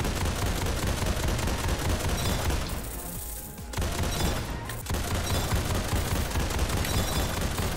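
Continuous rapid-fire shotgun minigun blasting in a Roblox zombie game, a dense, loud, unbroken roar of shots that drops out briefly for about a second midway, then resumes at full intensity.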